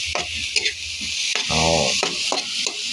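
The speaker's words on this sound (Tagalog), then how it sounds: "konting init lang mga idol kasi luto naman. Para lang maluto yung sibuyas at kamatis natin." Onions and tomatoes fry with longganisa in a hot pan, a steady loud sizzle under several stirring scrapes and clinks of a utensil against the pan.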